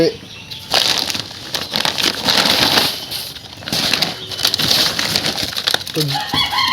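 Newly arrived high-growth broiler chicks, a batch of about 100 on a poultry farm, chirp in a dense, continuous chorus of high peeps throughout, with some low background sounds and possible talk underneath.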